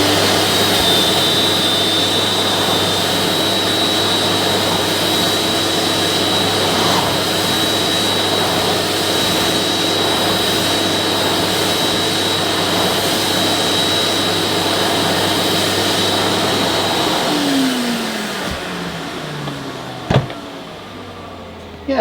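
A Zelmer Neptune aqua filter vacuum cleaner with a straight suction head runs with a steady, loud, whooshing drone for about eighteen seconds, then winds down with a falling pitch and a click near the end.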